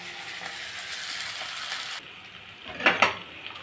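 Cluster beans fry steadily in a hot pan for a homemade curry, giving a broad, even sizzle that cuts off abruptly, followed by a couple of quick metallic clinks of a utensil against the pan.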